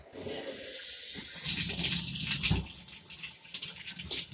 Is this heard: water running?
yes